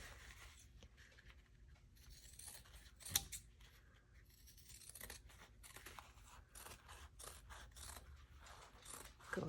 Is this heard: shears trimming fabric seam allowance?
yes